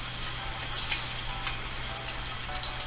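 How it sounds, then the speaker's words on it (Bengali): Onions sizzling soft in a frying pan, a steady bright crackle with a couple of small stirring clicks, close and continuous, no talk. "এটাকে আমি নেড়ে চেড়ে এখন একদম নরম নরম করে ভেজে নিচ্ছি"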